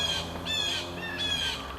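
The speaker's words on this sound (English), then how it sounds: "Just fun being out here listening to the birds." Birds squawk and call outdoors near a lake in spring turkey season, with several rising harsh calls repeating at moderate distance over steady background noise.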